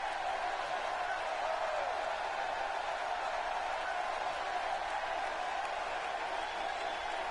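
An arena crowd in the wrestling video game WWE 2K17 sends up a steady, even wash of cheering and applause that stays level and moderately loud for about seven seconds, with no distinct voices standing out.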